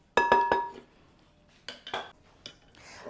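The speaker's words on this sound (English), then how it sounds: "we're just gonna whisk it around a little bit and get it combined" A whisk knocks against a bowl of flour and salt as the dry ingredients for apple fritter bread are stirred, three quick clinks followed by a few lighter taps, close and otherwise quiet.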